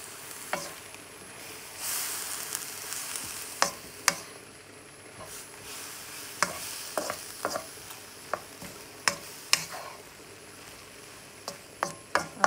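Sweet pumpkin greens vegetable curry is stirred in a pan, with a steady sizzle broken by sharp spoon scrapes and taps at irregular intervals, close and fairly quiet, without talk.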